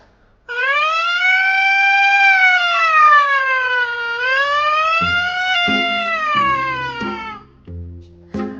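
A police jeep siren, apparently voiced by a performer, rises and falls in one loud, close wail for about seven seconds, with low rumbling bursts beneath its end.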